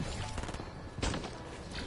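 Rapid pistol gunfire in a Fortnite Chapter 2 match, a dense run of shots at steady volume with a louder burst near the middle.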